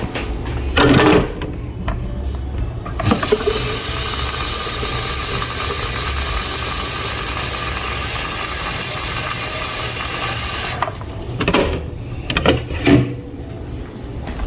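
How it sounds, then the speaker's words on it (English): Water runs into a kettle in a steady, continuous hissing stream lasting about eight seconds, framed by brief clatter and handling knocks at the start and end. "Let's fill this kettle up."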